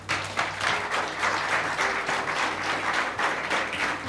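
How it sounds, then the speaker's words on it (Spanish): A church congregation claps together in sustained, fairly loud applause that continues steadily for several seconds, with no talking over it. "Dale un aplauso al Señor."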